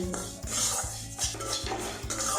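Semolina frying in ghee in a pan is stirred with a metal spoon, which scrapes and clinks against the pan in steady repeated strokes, close and fairly loud, with no talking.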